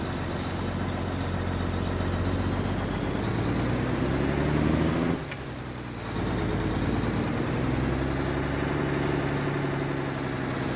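A Mack R semi-truck engine in American Truck Simulator drones loudly and steadily from inside the cab, with a brief dip and a hissing burst midway before the rumble resumes.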